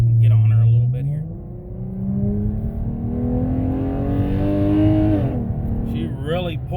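A Dodge Challenger V6 SXT with cold air intake, aftermarket exhaust and BBK throttle body revs and accelerates hard, its pitch climbing steadily and strongly up close, then easing off near the end.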